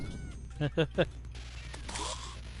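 The meow mirror item in Terraria on PS4 lets out three quick, close cat meows in a row. Game sounds and faint background noise follow.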